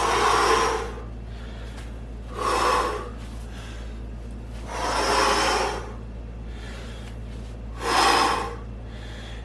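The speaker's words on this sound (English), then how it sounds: "sometimes I'll start this with a scooping breath" Deep, forceful breaths drawn in and pushed out in four separate bursts with pauses between, close and loud over a steady low hum, part of an energizing breathing exercise.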